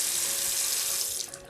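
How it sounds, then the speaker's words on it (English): A sink faucet is turned on for hand washing, and the water runs in a steady, close hiss that tapers off at the very end. "you turn on the water"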